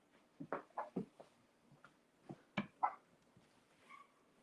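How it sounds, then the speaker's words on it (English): Puppies bark and yip in short, scattered bursts nearby, some higher whimpering notes between the barks, faint overall against a quiet room. "Oh, the puppies."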